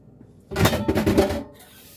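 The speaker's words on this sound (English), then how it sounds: "Put it in the sink and rinse this." Water runs briefly into a kitchen sink as a pan used for homemade mac and cheese is rinsed, a close, steady splashing rush lasting about a second before cutting off.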